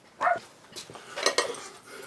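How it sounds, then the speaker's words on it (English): An agitated puppy barks indoors in a few sharp, scattered yips, mixed with light clattering noises, moderately close and not very loud. "My puppy is going ballistic."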